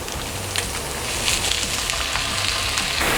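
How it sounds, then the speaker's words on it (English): Ground turkey, about 1.7 pounds, hits a hot pan with golden-brown onion and sizzles loudly and continuously, a dense crackling hiss that swells slightly as it settles. "Now that my onion is golden brown, I'm gonna throw some ground turkey."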